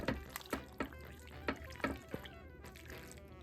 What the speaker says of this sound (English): I'm just gonna stir it.